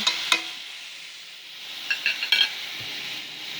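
Pork steaks browning in a frying pan give off a steady, close hiss of sizzling fat, with a few light scrapes and clinks from a utensil against the pan.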